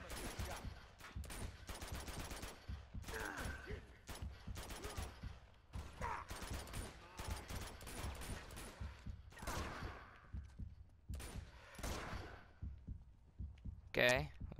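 Grenade launcher blasts and gunfire in the video game Uncharted: The Nathan Drake Collection ring out as repeated sharp bursts over several seconds, loud and close, with a player talking intermittently between shots.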